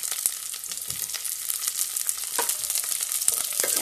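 Chilies and tomatoes sizzling in a hot frying pan, a dense steady crackle and hiss with small pops and stirring scrapes, close and alone.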